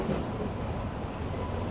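A New York City subway train on the F, M or J line at a Lower East Side station near Norfolk Street, a steady loud rumble of rolling wagons filling the whole moment without pauses, with no talk.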